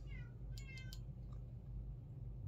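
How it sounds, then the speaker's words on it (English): A cat meows a few times close by, short tonal cries over a steady low background hum, with no talking. "Are all the cats just gonna meow their way into our hearts?"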